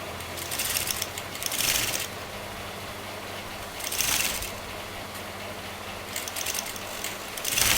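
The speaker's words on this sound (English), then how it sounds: "now we are going to sew this" Sewing machine stitching fabric for a kameez or kurta, running in three short bursts of rapid mechanical rattling separated by quieter pauses, close and fairly loud.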